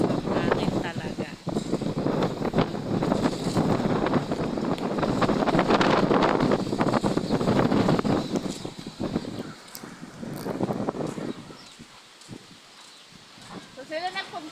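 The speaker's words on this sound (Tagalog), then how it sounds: "Nakikita nyo kalakas ang hangin talaga." Gusty seaside wind roars against the microphone, loud and rumbling for several seconds before easing off, with faint voices and movement underneath.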